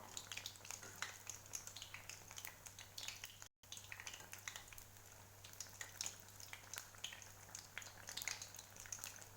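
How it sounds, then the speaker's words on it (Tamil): A rava sweet fries in hot oil over a medium flame, giving a soft, steady crackling sizzle with dense tiny pops throughout and a brief break partway, faint and with no voices. "இன்னும் கொஞ்சம் நேரம் இது ஃப்ரை ஆகட்டும்."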